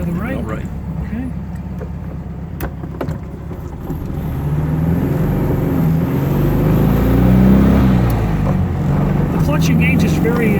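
A 1969 Volkswagen Karmann Ghia heard from inside while driving, its engine a steady low rumble that swells as it accelerates, with a voice talking over the drone.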